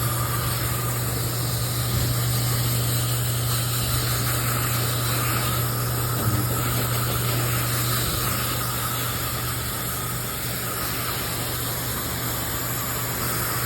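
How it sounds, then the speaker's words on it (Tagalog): High-pressure water spray at a coin-operated car wash, a steady loud hissing jet over a constant humming motor, running without a break and with no talk. "Siyempre pag mag-spray kayo dapat pati ilalim kasama."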